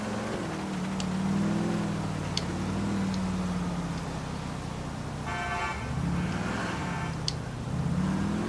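In GTA 4 on PS3, a car engine drones and revs in rising and falling swells, with a few sharp clicks and a brief horn-like tone midway, steady and fairly loud without talk.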